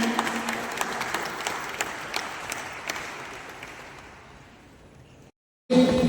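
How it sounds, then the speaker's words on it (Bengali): Audience applause welcomes a guest onstage at a fashion event, a dense steady clatter of many hands that slowly thins and fades, then cuts to brief silence before another burst of sound. "সকলে একটু জোরে হাততালি দিয়ে স্যারকে একটু ওয়েলকাম জানান"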